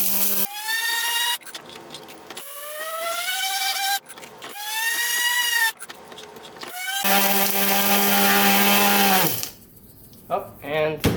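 An electric grinder motor grinding kitty litter into casting sand whines loudly and rises in pitch in repeated runs, broken by short pauses, before a long steady stretch that cuts off near the end.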